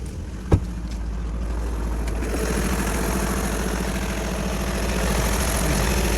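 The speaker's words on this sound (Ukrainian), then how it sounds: "Моторчик працює ідеально" A car engine idling close by with a steady, low, even rumble, after a single sharp knock near the start.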